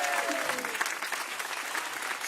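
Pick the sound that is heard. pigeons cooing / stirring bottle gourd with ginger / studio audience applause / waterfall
studio audience applause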